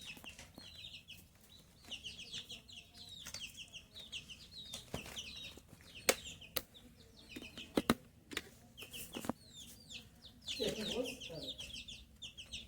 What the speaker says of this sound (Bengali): দেখো 4টে মুরগি আছে।